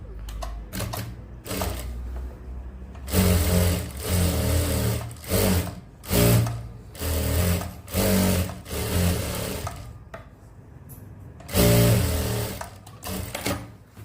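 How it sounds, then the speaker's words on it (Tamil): A sewing machine stitches the side seam of a men's shirt in several bursts, the motor whirring loudly between short pauses. The rapid needle clatter is close and clear, and no one talks. "இப்போது அப்படியே நீங்கள் வந்து ஓர தையல் அடிச்சுக்கலாம்."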